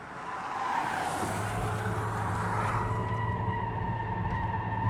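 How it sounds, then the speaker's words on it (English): Tyres squeal on a luxury electric SUV driven hard in sport mode, a sustained high-pitched screech fighting for traction over steady road roar that holds loud throughout. "You can hear the tires squealing and fighting for traction."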